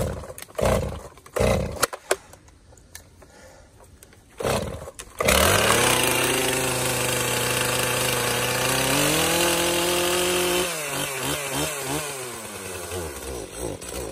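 A Husqvarna chainsaw felling a cherry tree roars up loudly and holds a sustained high revving whine, with its pitch shifting as it cuts; earlier come a few sharp knocks and a sputtering idle that has been reluctant to stay running.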